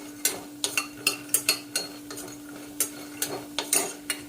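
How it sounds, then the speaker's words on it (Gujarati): Soya chunks (vadi) frying in oil in a pan: a spoon stirs and taps against the metal in a steady series of quick scrapes and clinks, with a soft sizzle and a faint steady hum underneath. "તો આ રીતે આપણે વડીને ફ્રાય કરી લઈશું"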